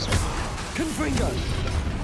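A Confringo explosive spell goes off in Hogwarts Legacy, a crashing impact with swooping, whooshing tones and scattered clatter amid ongoing combat noise.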